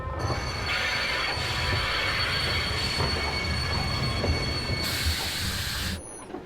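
A simple local passenger train runs steadily on its rails on the last section of the Orient Express route, with a continuous loud rumble, a rising high wheel squeal and a bright burst near the end before the noise drops away.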